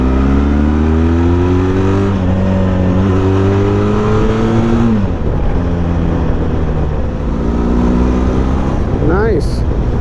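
A Benelli TRK 502X motorcycle fitted with a slip-on exhaust revs loudly and close, its engine note climbing in repeated pulls and dropping back, with people talking over it.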